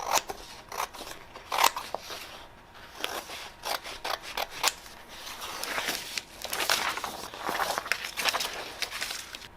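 Scissors snip through a peel-and-stick wood grain sheet in a series of close, crisp cuts, some rapid and others spaced apart, with faint rustling of the sheet between snips.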